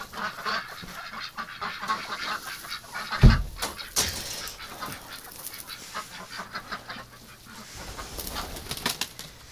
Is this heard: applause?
no